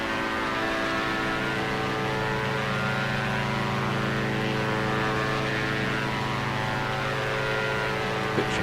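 Diamond DA62 twin propeller engines hold climb power in X-Plane 11, giving a dense, constant drone with steady tonal propeller hum that stays even and loud throughout.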